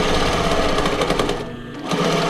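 An overlock machine runs at speed stitching a shirt, a loud, close, steady motor whir and needle chatter that dips briefly near the end before picking straight back up.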